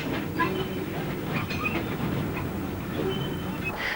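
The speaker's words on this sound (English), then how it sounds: "At Robertsbridge, a Bullard Q1 passes the Little Terrier." A Bulleid Q1 steam locomotive passes at Robertsbridge, heard as a steady, fairly close rolling rumble of train wheels with faint rail clatter throughout.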